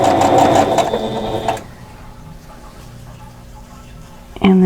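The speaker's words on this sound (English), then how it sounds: "So we're going to sew those 2." A sewing machine stitches quilt block pieces together, its loud dense whir running steadily for about a second and a half before stopping and leaving quiet, with a brief mechanical clunk near the end.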